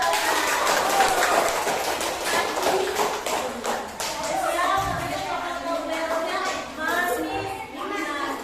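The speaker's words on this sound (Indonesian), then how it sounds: "kasih tepuk tangan dulu buat kelompok 2" Students in a classroom give a burst of applause for the second presentation group, dense clapping for several seconds that thins out toward the end.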